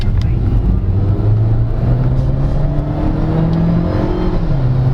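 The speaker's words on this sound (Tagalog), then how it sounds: "to activate the sport exhaust note, you have to be in sport plus mode" A 2024 GAC GS3 Emzoom R-Style subcompact crossover in sport plus mode runs with its sport exhaust open, a loud, steady droning engine note rising gradually as it accelerates, heard from inside the car.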